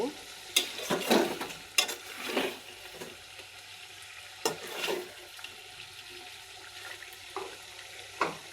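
Small homegrown chicken is stir-fried (kosha) in a pan, giving intermittent spatula scrapes and stirring clatter over a faint, continuous sizzle.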